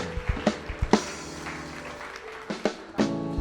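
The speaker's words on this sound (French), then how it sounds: "Let's clap for the King of Kings" A church congregation claps in praise of the Lord, scattered bursts of hand claps rising and falling over a sustained musical backdrop, fairly close and moderately loud.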